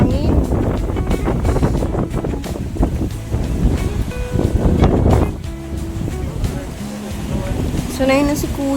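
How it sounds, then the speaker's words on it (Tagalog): Strong wind buffets the microphone at Nacpan beach in El Nido, Palawan, a loud, gusty roar under people talking throughout. "Grabe. Sobrang lakas ng hangin."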